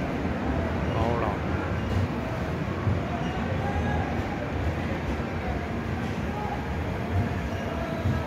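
A train arrives at a station platform on a journey toward Howrah and Kharagpur. Loud, continuous rumble and rattle of the rail cars fill the scene, with people talking throughout.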